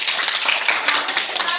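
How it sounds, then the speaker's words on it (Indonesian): Students in a classroom clap for a group presentation, a quick, lively burst of many hands clapping together at close range. "tepuk tangan buat sujud"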